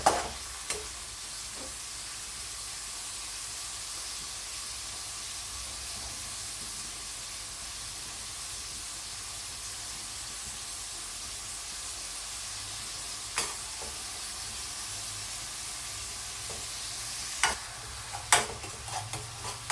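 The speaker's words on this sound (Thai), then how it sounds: "ตอนนี้เราผัดหมูก่อนนะคะใส่กระเทียม" Minced pork and fried garlic are stir-fried in a pan, giving a soft steady sizzle with occasional sharp scrapes and taps of the utensil, louder near the end.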